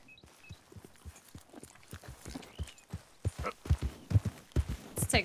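Horse hooves clip-clop at a steady walking pace in the video game Red Dead Redemption 2, close and fairly loud, growing stronger toward the end with faint background voices.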